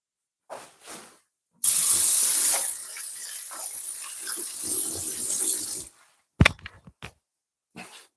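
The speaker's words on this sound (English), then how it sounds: "Just going to wash my hand quickly." A hand is washed under a running kitchen tap at a sink during live cooking of curry chicken and roti. A loud, steady gush of water runs for about four seconds, framed by brief handling noises and short quiet gaps.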